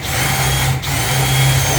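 A power drill runs continuously and loudly while driving screws into a sloped ceiling frame, a steady whine with a brief dip near the middle.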